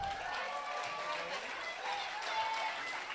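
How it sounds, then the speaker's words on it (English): Applause from an audience at an elementary school class graduation ceremony, a sustained wash of clapping heard somewhat distant and fairly quiet, with faint voices mixed in. "Whoa, that's a big applause"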